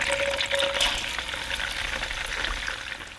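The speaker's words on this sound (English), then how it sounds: "And then I'm going to add in some minced garlic." Minced garlic frying in melted beef fat in a pot for pho, a continuous close crackling sizzle with light stirring, no voices.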